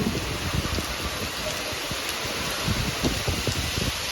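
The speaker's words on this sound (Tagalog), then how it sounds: "grabe pong lakas ng ulan" Heavy rain pours down in a dense, steady hiss, with drops pattering hard on a surface close by.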